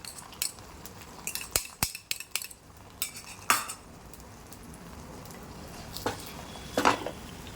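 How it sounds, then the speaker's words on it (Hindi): Eggs frying in a little oil in a hot pan while a metal spatula stirs and scrapes, sharp clinks and scrapes up front over a soft steady sizzle. "वो अंडों को पहले फ्राई करके निकाल लेंगे"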